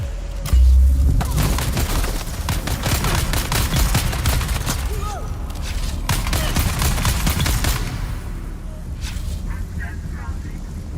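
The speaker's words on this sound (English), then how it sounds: "Look at all those grenades those people threw at me" Heavy gunfire and repeated grenade blasts in the video game Dune Awakening, a dense, continuous barrage of rapid shots and booms that runs loud and nearly unbroken, with voices faintly mixed in.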